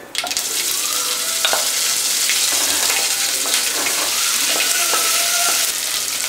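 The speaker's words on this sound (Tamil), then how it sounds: "இப்போ இந்த அவிச்ச கிழங்க போட்டுடலாம்." Boiled potatoes sizzle in hot oil in a pan as they are stirred, a loud continuous fry with scattered scraping clicks from the spoon, and no talking.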